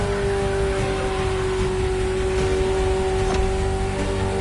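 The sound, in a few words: Ferrari sports car engine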